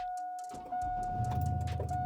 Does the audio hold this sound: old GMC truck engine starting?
yes